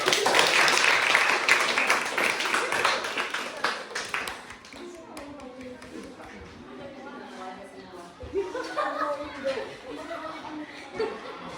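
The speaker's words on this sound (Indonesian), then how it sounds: "tepuk tangan untuk kelompok 1" Classroom group applause for the first team in a coaching session, dense clapping for about four seconds that fades into scattered chuckles and chatter.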